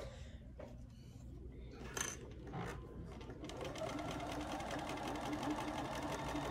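Sewing machine running steadily as it stitches a seam, starting with short bursts and then settling into a continuous close whir in a quiet room.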